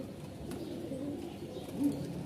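Flying pigeons kept for sale coo softly with low, throaty murmurs, a couple of fuller coos standing out over a faint steady background, nearby and with no talking.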